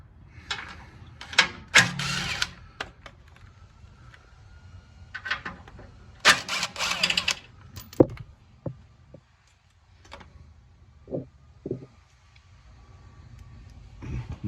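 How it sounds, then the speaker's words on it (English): Two 12 mm bolts come out of the rear of the Pro skid plate on a Toyota Tacoma V6 TRD Off Road 4x4 in a quiet garage, with short buzzing tool bursts, clicks and pauses between them. "next we're going to remove the 2 12 millimeter bolts on the rear of the Pro"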